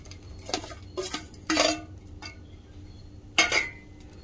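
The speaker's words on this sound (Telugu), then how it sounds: "బెల్లం వేసిన తర్వాత కలుపుతూనే ఉండాలి." A spoon scrapes and clinks in a pan as jaggery is stirred into coconut halwa with almond powder, making several irregular metallic knocks and scrapes at close range without any talk.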